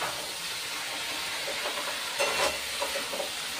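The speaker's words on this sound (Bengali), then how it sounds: "এবার জল দিয়ে দিচ্ছি" Water poured into a hot pan of fried potatoes, onions, tomatoes and green chillies gives a continuous rushing hiss that swells into a brief louder burst of steam near the end.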